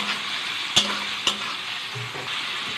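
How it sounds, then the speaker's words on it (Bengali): Onion and chopped prawns fry in a pan, a steady soft sizzle with two sharp clinks of a utensil against the pan and a brief stirring scrape, close and without talk. "চিংড়ি মাছটাও দিয়ে দেবো, দিয়ে লাল লাল করে ভাজবো পেঁয়াজটা আর চিংড়ি মাছটা"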